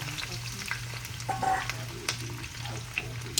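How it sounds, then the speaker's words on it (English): Peppers and onions sautéing in a pan, a steady close sizzle with some stirring scrapes and a low background hum, no talking. "I'm going to go ahead and get my peppers and onions going. Get them sauteed."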